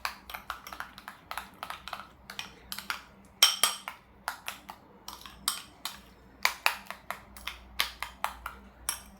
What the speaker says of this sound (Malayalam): നന്നായിട്ട് മിക്സ് ചെയ്യണം.